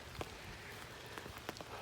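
Rain falling during an outdoor walk, a steady soft patter with a few sharper drops striking nearby, fairly quiet and with no voices.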